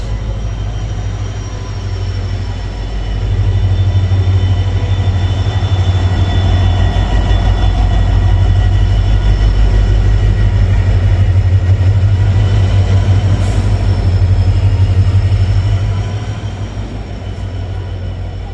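A loud steady rumble from inside a moving train, low rolling wheel noise swelling in the middle then easing, with faint metallic squeals above it and no talking.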